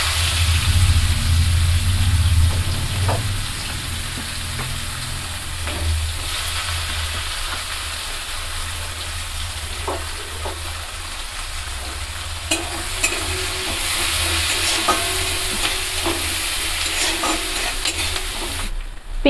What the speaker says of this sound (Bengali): পাঁচ ফোড়ন দেওয়ার পর আমি এবার কড়াই দিয়ে দেব পেঁয়াজ